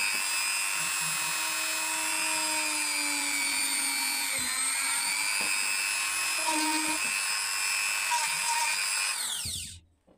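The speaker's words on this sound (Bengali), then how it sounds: "সো আমরা এই পাইপে দুটো প্রান্ত ছিদ্র করা" A power drill bores holes into a pipe for a homemade water heater, its steady high whine running close and loud for about nine seconds with slight pitch dips before cutting off abruptly.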